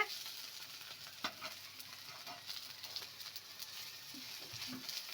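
Okra fries in a pan with a soft, continuous sizzle, faint and close, broken by a few light taps and stirring scrapes.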